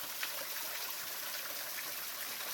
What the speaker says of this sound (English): And here's another little smaller waterfall